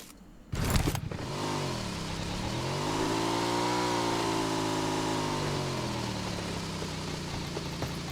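A motorbike engine in a video game starts with a sharp burst, then revs up and down in smooth sweeping waves over a steady idle, close and loud with no talk.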